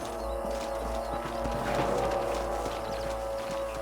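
Horse hooves clip-clopping in Red Dead Redemption on Xbox 360 or PS3, a steady walking rhythm over a low game ambience, moderately faint.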